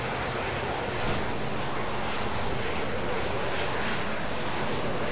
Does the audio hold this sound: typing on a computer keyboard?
no